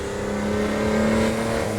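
A Porsche 911 GT2 (993) turbo engine accelerates hard around Le Mans in Assetto Corsa, its tone held steady and climbing gently, loud and close with no one talking.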